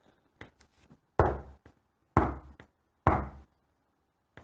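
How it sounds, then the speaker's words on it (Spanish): Three firm, heavy knocks on a street door, each a loud booming thump spaced about a second apart, preceded by a few faint light taps, with no voices. "golpearon a la puerta de calle"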